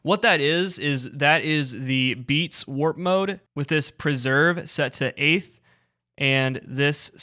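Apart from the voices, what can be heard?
No everyday noise stands out behind the speech.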